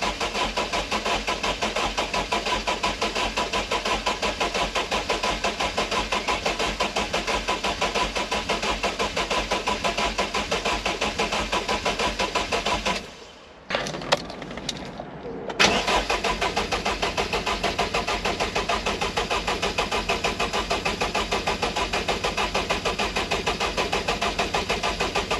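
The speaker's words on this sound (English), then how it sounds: "it's not going to start yet because I've taken the relay out so the fuel" The starter of an MG TF 135 with a Rover K Series engine cranks for a long time without the fuel pump relay, a steady close mechanical whirring that stops briefly partway and then resumes.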